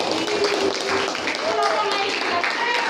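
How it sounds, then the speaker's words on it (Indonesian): Classroom group applause for a learning-style presentation, scattered clapping under lively chatter and voices, with talk running throughout. "Tepuk tangan untuk kelompok auditori"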